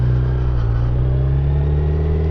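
A 2025 Kawasaki Z900 engine droning loudly and close, a steady low rumble with harmonics that rise slightly as the revs build through a downshift.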